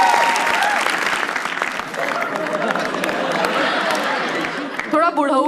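Live audience applauding at a comedy roast as a performer is welcomed on stage, steady dense clapping filling the room throughout, with a voice rising over it near the end.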